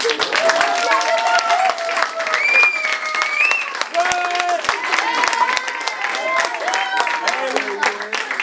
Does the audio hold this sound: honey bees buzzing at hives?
no